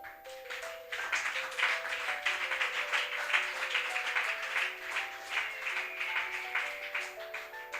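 A church congregation applauds to acclaim God, a sustained dense patter of many hands clapping at a moderate distance, with faint held organ or keyboard tones underneath.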